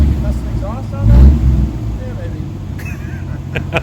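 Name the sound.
1982 Ford Granada V8 engine idling with leaking exhaust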